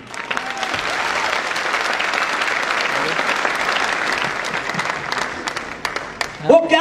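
Audience applause at a motivational self-story talk, a dense wash of clapping that swells quickly and holds steady for several seconds before thinning out, with a voice cutting in near the end.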